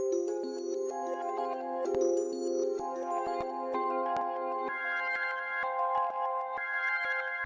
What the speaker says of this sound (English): the first sound I used in this loop was this bell from Palace's Omnisphere Bank